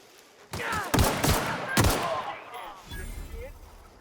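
Gunfire in The Outer Worlds, a few loud close shots in quick succession followed by another sharp report, then quieter lingering noise and a faint voice.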